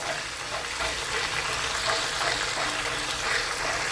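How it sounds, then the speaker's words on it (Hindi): Ginger garlic paste frying in hot oil gives a continuous dense sizzle that stays even and fairly loud throughout, with faint stirring and no voices. "अब हम इसको भून लेते हैं तेल में"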